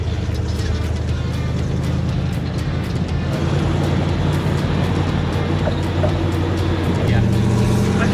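A line of hot rods crossing a one-lane bridge during the Hot Rod Power Tour, with a continuous low engine rumble and repeated passing vehicles, loud and close, over a steady background hum.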